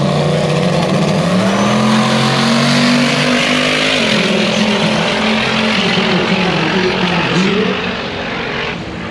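A C6 Corvette on a drag strip makes a loud, sustained V8 roar through a full pass, its pitch climbing through the gears with brief dips at shifts, then fading slightly at the end.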